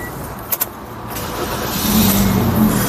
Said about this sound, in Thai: เดี๋ยวลองสตาร์ทเครื่องกันนะครับ ลองฟังเสียงเครื่องดู